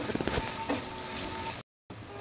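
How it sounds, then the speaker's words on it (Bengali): Sliced onions fry in oil toward golden brown for a biryani, a close, steady crackling sizzle with a few sharp pops near the start, cut by a brief moment of silence. "পেঁয়াজগুলো গোল্ডেন কালার করে ভেজে নেব।"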